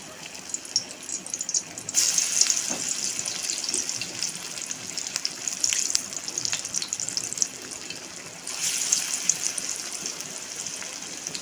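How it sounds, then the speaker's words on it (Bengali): Prawn fritters (chingri bara) frying in hot oil in a wok, a steady hissing sizzle that swells louder in two stretches as more batter goes in, with no talk. "এবার আমি এগুলো বড়া ভেজে নেব।"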